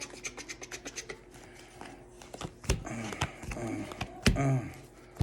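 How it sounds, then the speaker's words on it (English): A deck of tarot cards is shuffled by hand. Quick crisp riffling clicks come first, then rougher rubbing and sliding bursts, all close and fairly loud with no talking. "Shuffle these cards up."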